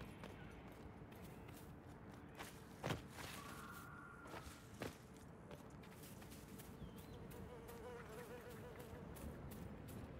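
Insects buzzing in the outdoor world of Dragon Age: Inquisition, a faint, steady hum under quiet game ambience, with a few soft footstep-like taps.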